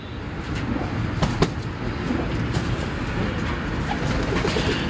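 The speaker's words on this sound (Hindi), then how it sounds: "टेम्पर के कबूतर है ये, आप देख सकते हैं आप।" Teddy highflyer and satinette pigeons coo in a low, soft, continuous murmur close by, with a few faint clicks and flutters over a steady ambient hum.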